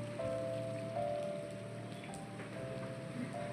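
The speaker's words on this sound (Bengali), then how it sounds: "কিন্তু খুব ভালো রকম বৃষ্টি হচ্ছে" Heavy monsoon rain in Goa, a steady, soft hiss of drops falling on surfaces all around, with no talking.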